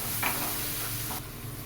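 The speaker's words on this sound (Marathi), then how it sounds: "हळद मीठ टाकलं ना एकत्र फिरवून घेऊया याला" Potatoes tossed with turmeric and salt in a pan for Pune-style puri bhaji, a steady soft sizzle under light scraping stir strokes, close and continuous with no voices.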